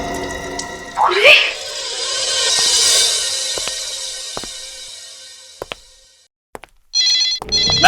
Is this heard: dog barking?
no